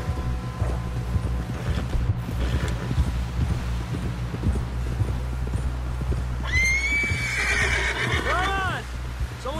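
Horse in the Red Dead Redemption 2 video game whinnies loudly and repeatedly in the latter half, with steady clip-clopping hooves throughout over a low droning background and occasional talk.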